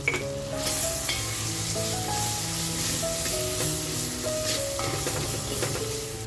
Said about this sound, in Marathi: तर बघा, आपला मसाला असा छान फ्राय झालाय. गॅसची फ्लेम मी स्लो ठेवली आहे.